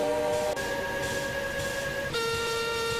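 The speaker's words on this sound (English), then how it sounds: "The engines all whistled in delight." Steady whistles from several steam engines hold long sustained tones that overlap and change pitch partway through, with rail noise rumbling underneath.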